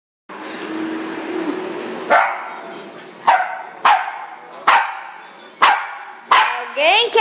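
A female dog barks in a run of sharp, evenly spaced yelps after being tripped over indoors at night, each bark loud and close, following a stretch of someone talking.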